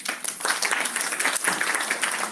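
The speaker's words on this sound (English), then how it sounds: "Another round of applause." Another round of applause from the audience at a migration conference session, a brisk, even spread of many hands clapping, moderately close and lively for a couple of seconds.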